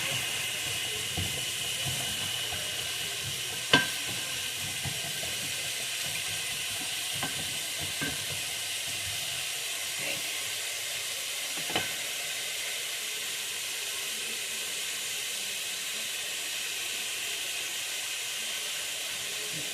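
Chicken and mushroom stew seasoned with pepper sizzles in a pan, a steady hissing fry close by with an occasional clink of a utensil against the pan, no voices.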